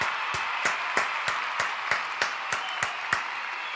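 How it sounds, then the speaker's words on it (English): Audience applause for Cam G after a wrestling pay-per-view, with a steady wash of clapping and sharper individual claps popping out roughly every third of a second, close and fairly loud. "Another round of applause for Cam G."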